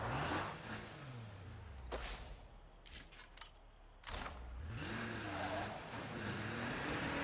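A car in the zombie survival game State of Decay 2 drives along with a steady engine drone that rises and falls in pitch as it revs and shifts, broken by a few sharp clacks and bumps midway.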